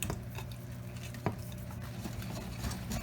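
A spoon stirring carrot cake batter in a bowl, a soft, continuous scraping and squelching with one brief clink against the side, quiet and close with no talk.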